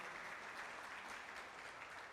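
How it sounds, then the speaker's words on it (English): Audience at an optometry scientific conference gives steady, continuous applause, many hands clapping evenly but sounding fairly distant and quiet. "We will all give a big applause for them."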